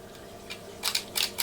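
Vintage film camera with its shutter mechanism being worked: a few soft mechanical clicks and brief clacks, close and fairly quiet, with one small click early and a tighter cluster of bright clicks near the end.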